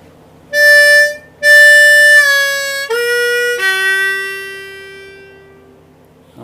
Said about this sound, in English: so the way this riff works is we're going to play 4 draw,